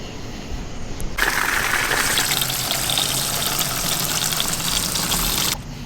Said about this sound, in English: With an outdoor shower at a power plant.